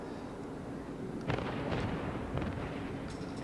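Naval guns firing in World of Warships from a German cruiser, heard as several loud booming volleys and rumbling bursts over a dense battle background, with no talking.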